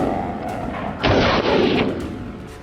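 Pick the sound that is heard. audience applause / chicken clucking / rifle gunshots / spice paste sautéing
rifle gunshots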